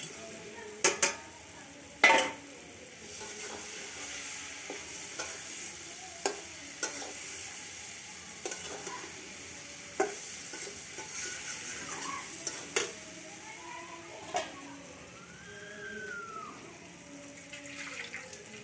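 Fish dropped into hot oil in a frying pan sizzles quietly under a continuous hiss, punctuated by sharp clatters and scrapes of a utensil against the pan.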